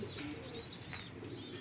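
Caged pigeons coo softly in a quiet, faint setting, with a brief low coo heard among light background noise.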